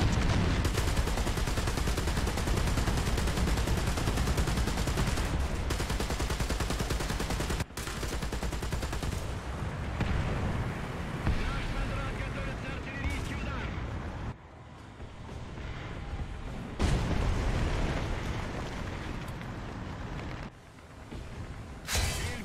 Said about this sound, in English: Oh, now they sent artillery.